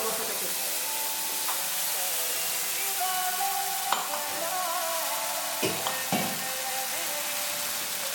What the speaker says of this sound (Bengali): এখানে পোস্ত, সরষে আর কাঁচা লঙ্কা পেস্ট করে দিয়েছি, আর আদা এর মধ্যে পেস্ট আছে। এটা এর মধ্যে দিয়ে ভালো করে